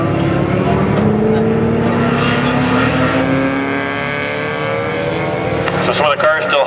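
Closed-wheel race cars circle the Mission Raceway track, their engines a loud, continuous drone that climbs in pitch as they accelerate, with more cars passing close near the end.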